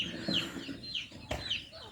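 Young farm chicks peep in a village yard, giving thin high calls a few times over a faint, low background.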